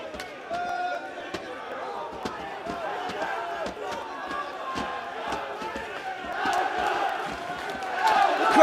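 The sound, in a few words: boxing crowd cheering at Coventry fight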